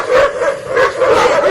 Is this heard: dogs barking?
yes